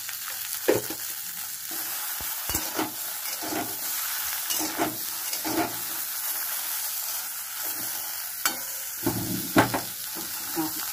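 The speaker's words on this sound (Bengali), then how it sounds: "আমি 1 মিনিট বাদে আমার ঢেঁড়সটা ভাজা হয়ে গেছে" Okra sizzles and crackles steadily in a hot pan, with occasional louder pops and stirring clatter. The sound is close and continuous for the full length, and there is no talk.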